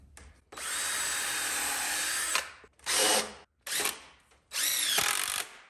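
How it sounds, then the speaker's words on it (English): Cordless power drill driving a screw into a wooden end piece while building a chicken tractor, in several close, loud bursts: a long whine, then two shorter runs and a final burst as the screw seats. "I add a screw right in the middle,"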